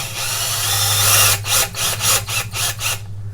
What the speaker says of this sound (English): I'm going to drill it, or screw it I should say, into the bottom